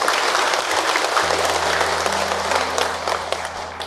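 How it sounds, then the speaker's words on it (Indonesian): Women in the congregation of a Ramadan religious talk give a burst of sustained applause, close and full, over a faint steady hum. "tepuk tangan ibu untuk Ahilman."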